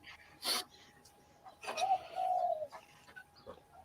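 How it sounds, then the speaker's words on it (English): Pigeons cooing in a soft, low warble that swells and fades, a couple of short calls close by, with faint background rustling and no speech. "Your pigeons are going well there, Jay, aren't they?"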